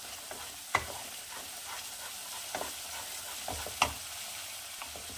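Spices sautéing in hot oil for a Bengali fish curry with dried red chillies in the tempering, a soft steady sizzle broken by scattered spatula scrapes and stirs against the pan, two sharper clacks standing out, no talking.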